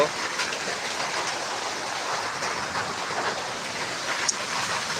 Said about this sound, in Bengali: এই যে আমাদের বৃষ্টির আবহাওয়া